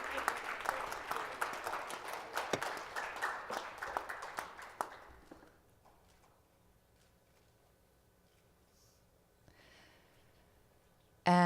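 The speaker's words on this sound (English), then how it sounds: "could we also have a big round of applause for Ms. Hiromi Kawamura" Audience applause for Ms. Hiromi Kawamura at the Dream Together Seoul Forum 2017, dense clapping for about five seconds that fades into a quiet room, with a short sharp noise at the very end.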